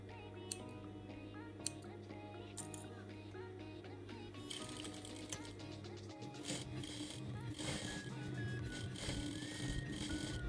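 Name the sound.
sewing machine stitching a corset strip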